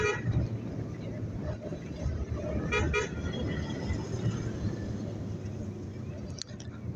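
A car horn toots on a busy road during a drive from Quetta toward Dera Ismail Khan, a short honk cutting through steady engine and traffic rumble while a voice talks over the road noise.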